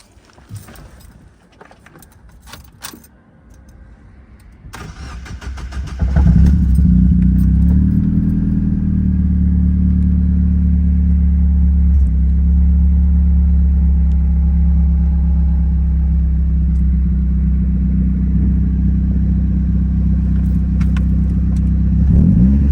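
A rusty, lifted Mazdaspeed Miata is cranked after some clattering and jangling, then its engine catches and settles into a loud, steady idle rumble with occasional light revs, close by.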